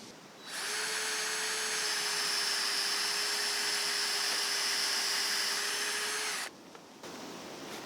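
A power drill boring a tap hole into a tree runs steadily at a high whine for about six seconds, close by, then cuts off abruptly.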